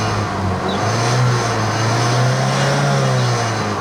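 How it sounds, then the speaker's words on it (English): Saab 9-3 engine with a misfire history revving up steadily, a rising and sustained mid-pitched engine note held at high RPM around 4,000, close and loud with no talking. "Let's go ahead and give it a couple revs."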